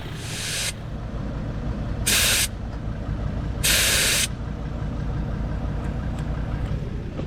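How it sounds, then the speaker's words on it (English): Silicone spray hisses from a can onto a petrol Mitsubishi Delica before a water crossing, in three bright bursts: a short one, a brief one, then a longer blast, each close and loud over a steady idling hum. "silicone spray because it's petrol"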